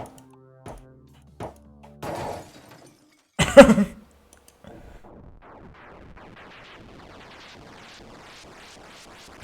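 A hammer smashes a screen in the video game Please, Don't Touch Anything 3D: one loud, sharp crash with a shattering burst, preceded by a few isolated clicks and followed by faint game sounds.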